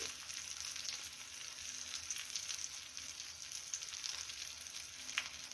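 Stuffed green chillies sizzle steadily in a hot pan, a close, even frying hiss with faint crackles throughout and no voices.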